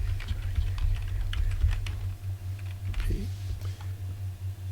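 Fingers tap out quick, uneven keystrokes on a computer keyboard, close and fairly quiet, with no talking.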